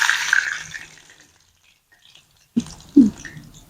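Kanji vada batter dropped from a wet hand sizzles in a loud hissing burst that fades over about a second. Two dull, close knocks follow a moment later.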